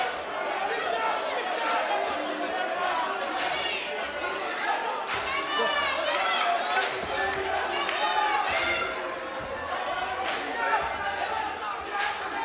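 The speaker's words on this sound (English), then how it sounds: "They're screaming for their man, they're singing." A boxing crowd at a Filipino versus South African bout roars continuously, with screaming, shouting and chant-like singing at a steady loud level throughout.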